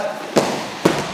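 Two sharp, heavy thuds roughly half a second apart, bodies slamming onto a wrestling mat during hip and mill throws in a training session, loud and close with no talk.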